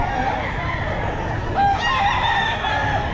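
A Sweater Gilmore gamefowl rooster crows at a pet market, one drawn-out crow rising over a busy, murmuring crowd close by.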